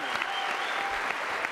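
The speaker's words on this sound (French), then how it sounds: "Applaudissements pour Patrice Carmouze." A TV studio audience applauds a guest on a French entertainment show, a brief, steady wash of clapping at moderate loudness with a few sharper claps standing out.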